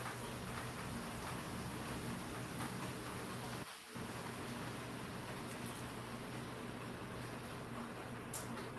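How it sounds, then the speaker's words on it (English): Heavy rain heard through a meeting participant's microphone, a dense, steady hiss that fills the whole stretch, with one brief dropout midway and a faint hum underneath. "I want to know whose rain I can hear so loudly."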